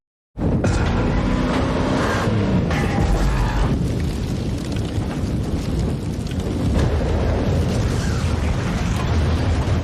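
A loud blast erupts suddenly from silence and rolls on as a sustained roaring rumble with crackling debris for several seconds.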